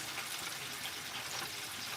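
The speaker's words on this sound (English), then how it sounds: "So look at that fry. That's frying up good" Pieces of chicken deep-frying in hot oil, a steady soft hiss and crackle that continues evenly throughout at low volume, with no talking.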